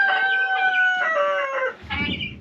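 A rooster crows a long drawn-out call, followed by clucking from a small flock of about eight hens nearby, close and clear.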